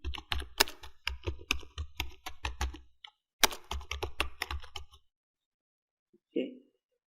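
Computer keyboard keys tapped while entering text in CorelDraw, heard as close, rapid bursts of clicky keystrokes for several seconds with a brief pause, then silence followed by one short soft knock.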